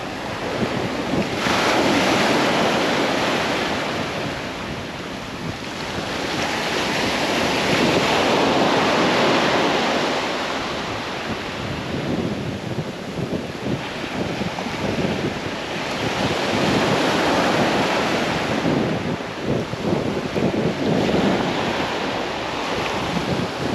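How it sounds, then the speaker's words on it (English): Light wind blowing across a Dorset beach at Southbourne during plaice fishing, with surf washing in and out as a steady, broad rush that swells and fades, close to the microphone and without voices. "That wind has dropped even more. It's very, very light now."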